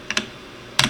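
Keystrokes on a computer keyboard during animation software work: two quick clicks near the start, a pause, then another pair of clicks near the end, close and crisp with no talking.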